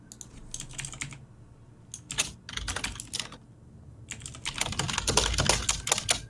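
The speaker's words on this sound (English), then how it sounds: "Oh, such loud typing." Fast, close typing on a mechanical computer keyboard clatters in uneven bursts with short pauses between them, and no voices break in.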